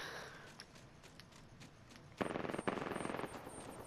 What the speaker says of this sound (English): He's shooting someone else